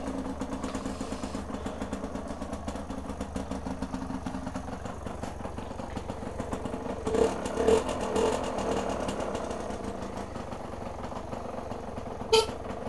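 A motorcycle engine idles with a steady low rumble, a few louder revs midway and a short horn-like blip near the end.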